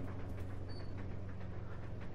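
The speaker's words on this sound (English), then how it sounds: "The train is out of control." A runaway train in the Resident Evil 0 video game rumbles with a steady, heavy low drone and faint rattling, continuous and fairly close throughout, with no voices.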